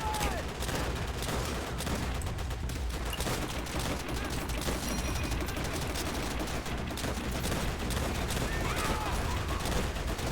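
Heavy machine gun fire rattles continuously through a battlefield in Call of Duty: World at War, a dense, steady barrage that drowns out everything else for the whole stretch.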